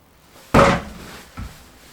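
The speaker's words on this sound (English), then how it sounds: "open the door" A loft ladder hatch door swings open with a loud, sharp thump, followed by a softer second knock a moment later in an otherwise quiet home.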